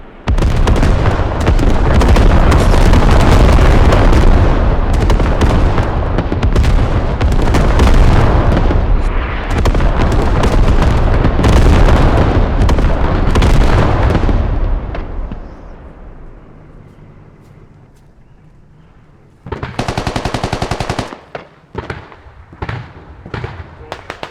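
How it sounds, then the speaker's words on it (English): Mortar rounds exploding in the tactical shooter Squad during a competitive invasion match, a dense run of loud booming blasts and cracks for about fifteen seconds, then a lull and a fresh burst of sharp impacts with scattered pops. "need to call in mortars, please"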